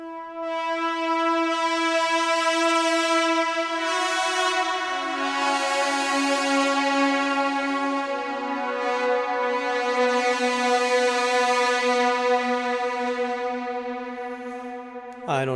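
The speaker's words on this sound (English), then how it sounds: "there's a preset in here called Blade Titles" Sustained brass-like synthesizer chords from a preset named Blade Titles, meant to evoke the CS-80 sound of Blade Runner, swelling and shifting pitch steadily for about fifteen seconds, loud and alone with no talk.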